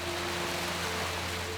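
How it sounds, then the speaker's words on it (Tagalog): Steady, dense hiss of heavy rain pouring down, constant and unbroken, with a low hum beneath it. "biglang bumuhos ang malakas na ulan"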